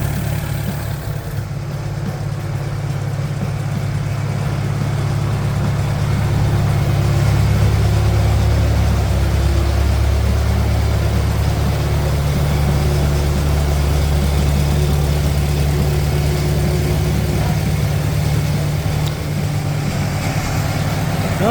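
A McCormick W6 tractor engine running steadily at idle, a deep continuous low rumble, close and loud throughout with no talk.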